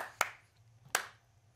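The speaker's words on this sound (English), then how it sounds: "That's a good golf clap." Two sparse, isolated hand claps ring out about three quarters of a second apart in a quiet esports studio, a polite golf clap over a faint low hum.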